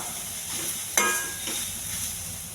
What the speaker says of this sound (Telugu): మసాలా మొత్తం పట్టే వరకు కలపాలండి.